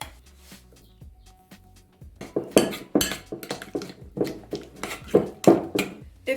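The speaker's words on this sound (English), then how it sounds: "open your can of caramel and decant so that you can stir and soften the caramel" Canned caramel is decanted into a mixing bowl and stirred, with clinks and scrapes of a utensil against the bowl in irregular bursts, close and moderately loud after a quieter start.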